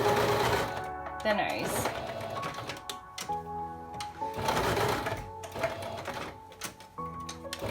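A sewing machine runs in steady bursts, stitching a fabric face mask at home, with someone talking over the whirring motor throughout.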